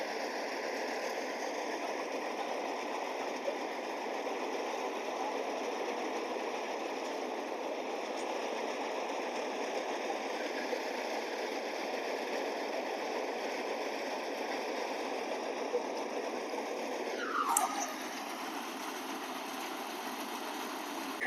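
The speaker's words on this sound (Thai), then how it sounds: "เริ่มแล้วเด้อทุกคนเริ่มสตาร์ทเครื่องแล้วเด้อ" A rice threshing vehicle's engine runs with a steady, close drone, then its pitch drops sharply near the end and settles into a lower hum.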